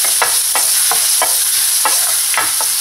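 Garlic sizzling in hot oil in a pan, a steady bright frying hiss broken by regular stirring scrapes roughly every half second, close and loud with no voices.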